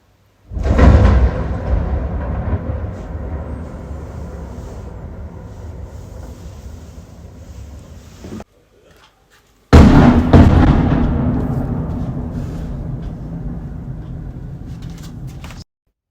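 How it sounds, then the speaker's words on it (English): Ballistic missile strike about ten kilometres away in Kharkiv, Ukraine: a heavy, rumbling blast that rolls on for several seconds before fading, a brief lull, then a second loud boom that also decays slowly, with no voices. "this is the sound of an ballistic missile approximately targeting something 10 kilometers away."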